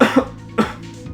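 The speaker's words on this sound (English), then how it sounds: "Sorry for the constant coughing." A person coughs during a gaming session, two short, harsh bursts close to the microphone with a throaty quality and a brief pause between them.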